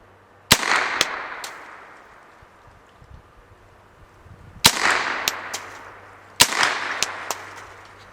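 Shots from a KelTec SU-22 rifle aimed at bottles outdoors: sharp cracks, each trailed by a long rolling echo, then a rapid pair and another pair spaced seconds apart.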